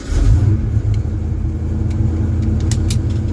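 A car engine fires up and settles into a rough, rumbling idle with small revs, loud and close for a few seconds, with no talk.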